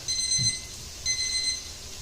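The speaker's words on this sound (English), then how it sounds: "at this point, I'm going to start a timer" A kitchen timer being started while braised short ribs in red wine sauce cook, giving two short bursts of high electronic beeping about a second apart over quiet room tone.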